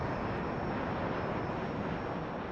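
Inside or near an Airbus airliner, Flight 888, in flight: a continuous broad engine roar holds steady and fairly loud throughout, with no other sounds standing out.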